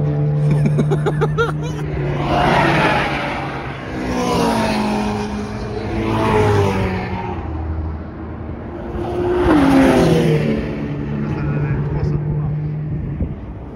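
A Volkswagen car drives past on a race track, one of several engines that rise and fade in repeated pass-by sweeps, loud and close, with faint speech and background engine drone between.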